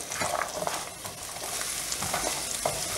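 Chopped onion and tomatoes with salt stirred in a hot pan, a continuous near sizzle broken by repeated scraping spoon strokes.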